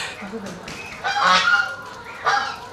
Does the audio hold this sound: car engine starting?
no